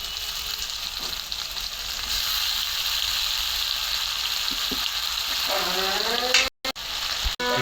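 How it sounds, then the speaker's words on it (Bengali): Broiler chicken frying in a pan with salt, ginger and garlic gives a steady loud sizzle, then warm water goes in near the end, sending up a sharp burst of bubbling hiss and clatter. "একটু পানি দিয়ে দিলাম"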